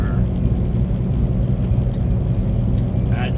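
A car cruises along the highway between Laramie and Rawlins, Wyoming, heard from inside as a steady low road rumble and engine drone with constant tire noise, close and continuous with no talk.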